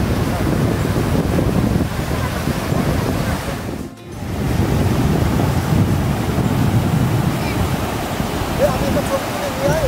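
Sea waves wash steadily onto a quiet beach at Zalor, a loud, broad roar with wind buffeting the microphone, easing briefly around the middle before surging back.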